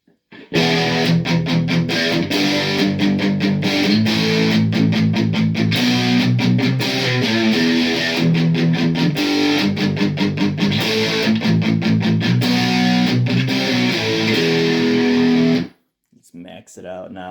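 Electric guitar through an MXR Dookie Drive V4 pedal with the gain maxed, giving a loud, saturated metal tone; heavy chugging chords and palm-muted riffs play continuously, then cut off near the end into faint hiss.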